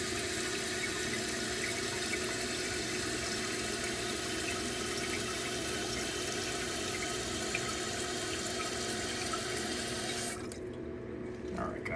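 A toilet tank refills through its fill valve, a continuous hissing rush of running water that holds steady for about ten seconds before dropping to a quieter trickle; voices are faint beneath it.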